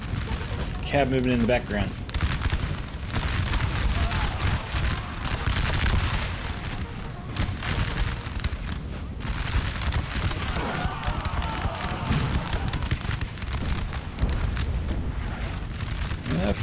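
Musket volleys crackle through a Napoleon: Total War battle, a dense, continuous fusillade of overlapping shots and booms running throughout, loud and steady, with a voice talking over it.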